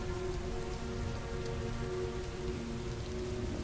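Steady heavy rain pours down in the Heavy Rain video game, a dense, continuous hiss of drops hitting surfaces, loud and unbroken throughout with no voices.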